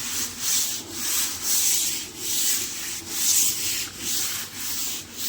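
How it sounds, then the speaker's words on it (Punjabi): Stiff scrub brush rubbing green algae off a floor, steady rhythmic back-and-forth strokes, close and loud, about ten strokes with no talking. "ਸਾਰਾ ਫਰਸ਼ ਆਪਾਂ ਇਸੇ ਤਰੀਕੇ ਨਾਲ ਹੀ ਰਗੜ ਲਈਏ ਰੜਕੇ ਨਾਲ"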